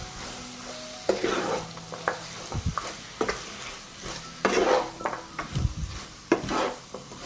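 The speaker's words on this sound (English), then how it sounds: "I will stir and fry everything together for 15 minutes." Onions, carrots and meat frying in hot olive oil, with loud close sizzling and repeated scraping, clattering stirs of a spoon against the pan at uneven intervals.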